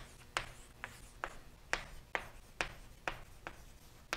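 Chalk or marker strokes on a classroom board during a lecture on differential equations, about nine short scraping taps in a steady, slightly uneven rhythm, fairly faint and close, with no talking.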